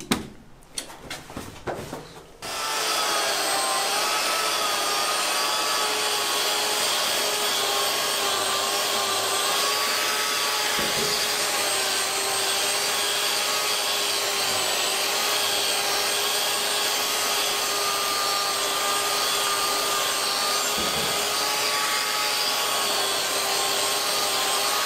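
Festool RG130 Renofix diamond grinder working into a corner, a steady loud whining drone with layered tonal hum that runs continuously after a few brief clattering starts, with slight dips as the machine shifts.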